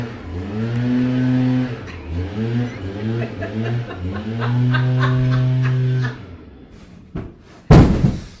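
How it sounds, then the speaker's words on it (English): Furniture gets knocked over by someone laughing hard: long, wavering, voice-like sounds build up before a single loud, abrupt crash near the end. "she's knocking furniture over"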